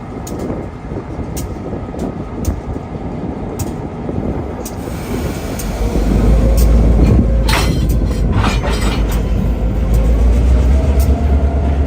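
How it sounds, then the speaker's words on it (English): An RJ Corman freight train locomotive pushing its cars along tracks near Leestown Road in Lexington, Kentucky, a steady rumbling roll that grows louder and deeper midway as the engine nears, with a low engine drone and occasional clanks. "this engine is pushing instead of pulling"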